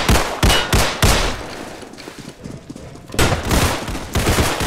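Bursts of gunfire from the Roblox game Criminality crack out in rapid clusters, loud and sharp, with a quieter gap in the middle before another volley of shots.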